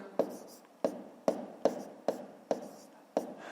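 A pen writes numbers by hand for a fifth-grade math exercise: seven sharp, evenly spaced strokes on paper, close and distinct, each tapping down and fading quickly.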